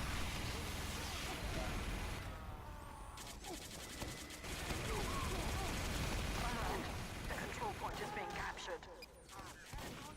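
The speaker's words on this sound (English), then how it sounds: "Nice shotgun work from McFool there" Dense, continuous shotgun blasts and gunfire from a competitive video game match, rattling without pause while a commentator talks over the action.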